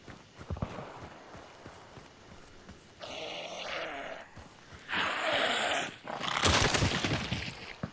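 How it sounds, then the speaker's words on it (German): Dogs barking in the video game Hunt: Showdown, distant and intermittent amid scattered footsteps and bursts of ambient game noise. "Oh ja, man hört auch die Hunde."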